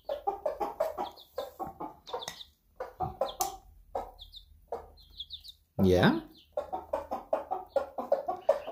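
Pet chickens clucking and chirping close by in a home, soft repeated clucks and peeps interspersed with someone talking over them.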